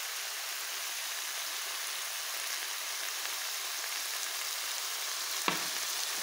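Spices such as black pepper and paprika are mixed into a creamy, cheesy pasta sauce in a pan, producing a steady hissing sizzle with faint stirring and one short knock near the end, with no voices.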